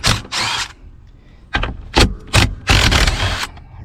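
A power tool zips out 1/2-inch seat bolts from a Chevy C4 Corvette in several short, loud, close bursts separated by brief pauses.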